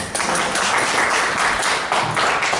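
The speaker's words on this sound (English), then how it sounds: "give yourself a round of applause" An audience at a hypnosis talk gives a round of applause, dense clapping from many hands that stays loud and steady throughout.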